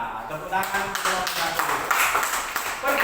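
Classroom applause from students, a dense spread of hand claps starting after a brief pause and continuing steadily at moderate level, with a teacher's voice faintly present.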